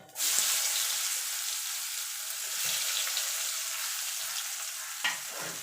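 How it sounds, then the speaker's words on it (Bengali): Onions frying in oil with cumin and whole garam masala in a pan, a dense, even hiss of sizzling with occasional stirring scrapes, steady and close. "পেঁয়াজটাকে একটুখানি লাল লাল করে ভেজে নেব।"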